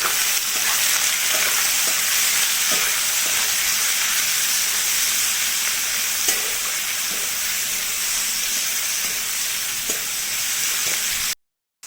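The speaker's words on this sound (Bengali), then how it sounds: "পেঁয়াজ আর টমেটোটাও দিয়ে দিলাম।" Chopped onion and tomato fry in hot oil in a wok with a loud, continuous close-up sizzle that holds steady for about eleven seconds, with a few faint clinks, then cuts off abruptly.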